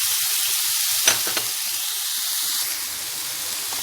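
Tomatoes go into minced meat frying in a pan for stuffed peppers with meat, giving a loud, continuous hissing sizzle with a couple of brief clicks near the start.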